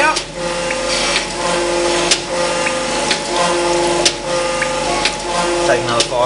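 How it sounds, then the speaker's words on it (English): A surface grinder works a steel collet block in a machine shop, a steady mechanical whir and hum with periodic sharp ticks as the table reverses. Someone talks over the noise. "we just grind up to that, leave that ledge"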